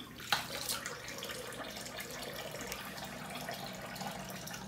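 A bathroom tap runs cold water for a rinse during a wet shave, a steady, soft hiss of flowing water with a brief splash near the start, close and continuous with no talk.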